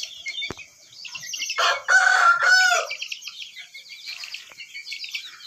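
A rooster crows once, loud and close, its strained harmonic call rising and falling over about a second, with softer bird calls and clucking around it and no talking.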